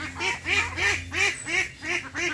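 Ducks quack loudly and close by while being fed, a rhythmic series of about six or seven raspy calls in quick succession with no one talking.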